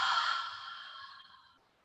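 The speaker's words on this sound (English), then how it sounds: "And exhale out through your mouth." A single long breath is exhaled through the mouth during a chair yoga session, a soft airy whoosh that starts fairly loud and slowly fades away.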